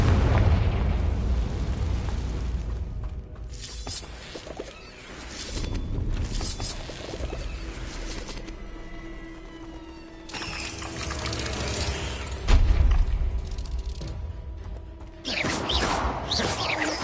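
Repeated Confringo fire-spell blasts in Hogwarts Legacy, loud booming bursts with crackling tails that recur every few seconds over continuous game ambience.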